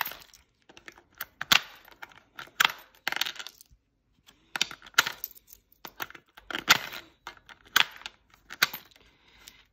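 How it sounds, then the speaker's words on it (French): Small coins being dropped into a large jar of savings: a close series of bright metallic clinks and clatters, arriving in irregular bursts separated by short silences, with no voices. "les petites pièces, je vais les mettre dans ma bonbonne."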